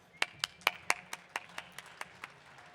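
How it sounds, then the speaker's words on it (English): Sparse hand clapping from a small audience at a tech ecosystem event greets a speaker: about a dozen distinct, fairly faint claps in an uneven rhythm, fading slightly toward the end. "please give a round of applause to him"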